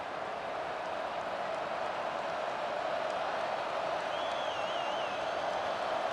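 A stadium crowd roars in the College Football 25 video game during a Michigan Wolverines versus Notre Dame Fighting Irish matchup, a steady, dense wash of distant cheering and noise that holds without a break.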